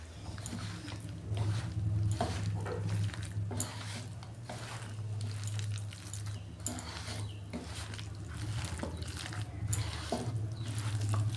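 Chicken pakora batter with rice flour and baking powder being mixed by hand in a bowl, repeated wet squelching and slapping strokes in an irregular rhythm, close and moderately loud, no talking.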